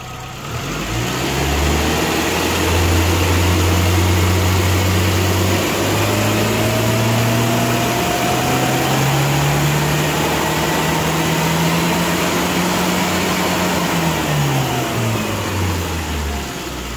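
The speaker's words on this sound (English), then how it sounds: "So I'm going to go ahead and rev this up and see if there's any places where the fueling starts going too rich." A car engine with its stock airbox revs up toward 6,000 RPM, rising steadily in pitch, holding high, then falling back. Loud and close with no talking.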